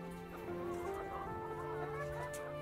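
Dual-purpose chickens kept for both eggs and meat cluck steadily in a farmyard flock, a continuous close murmur of overlapping calls with no talking.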